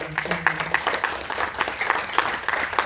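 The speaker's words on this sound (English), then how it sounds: "Let's give Jacob one more round of applause." Audience at a talk gives a round of applause, a modest crowd clapping with distinct individual claps in a loose, steady patter, fairly close and without speech.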